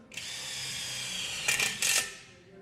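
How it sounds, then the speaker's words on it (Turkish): A Retools 450 Nm cordless impact wrench whines steadily at close range for about two seconds, then gives two short, louder hammering bursts before spinning down. "Bir de şu 450 Nm'lik somun sökmemi sizlere tanıtacağım arkadaşlar."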